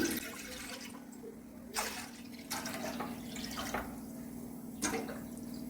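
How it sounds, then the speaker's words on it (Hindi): Four glasses of water are poured into a pan sitting on a gas stove, giving faint splashes and trickles with a few sharper gushes as each glassful goes in, and no talking. "मैं डालूंगी इसमें 4 गिलास पानी।"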